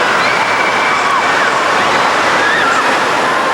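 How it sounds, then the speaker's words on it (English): Wave pool at West Edmonton Mall, with waves driven by hydraulic wave machines, giving a constant loud rushing wash of water and faint tonal whines from machinery or the hall. "this is how we make the waves"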